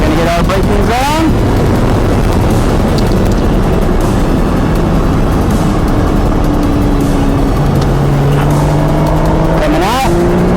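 A Porsche 981 GT4 on a race track brakes hard with its engine roaring loudly, downshifts climbing in pitch, and a tire squeal under the noise, alongside a voice.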